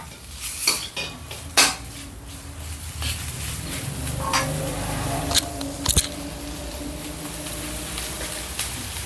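Beef curry paste being stir-roasted in a pan over low heat, with repeated scraping and clinking of a metal utensil against the pan and soft sizzling underneath, close and steady with sharper knocks at intervals.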